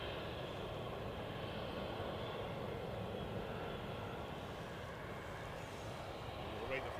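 A British Airways airliner at Edinburgh Airport gives off a steady, broad engine roar that holds at an even level throughout, with faint chatter now and then.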